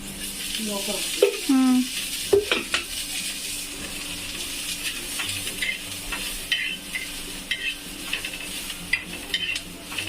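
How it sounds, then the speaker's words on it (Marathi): Mustard seeds and onion sizzle in a little oil for shev bhaji, a soft continuous frying hiss with stirring clinks and scrapes, fairly quiet and close, with brief pops early on. "राई कांदा कसा उद्यायचा लालसर कांदा उद्यायचा थोडाच तेल टाकायचं त्याच्यामध्ये"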